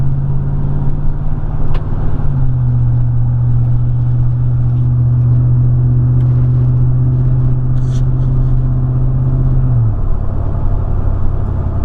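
Chevrolet Silverado fitted with a Super 10 cat-back exhaust, run without tips, pulling away at about 2000 RPM: a loud, steady low exhaust drone that holds, steps slightly in pitch, then drops off near the end, with no talk.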